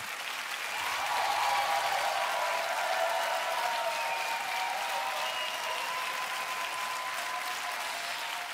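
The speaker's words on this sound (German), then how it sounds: "Genießt alle noch einmal diesen Applaus" Long, steady studio audience applause on the TV dance show Dancing Stars, a thick continuous roar of clapping that rises after the first second and holds evenly, with faint cheering tones drifting through.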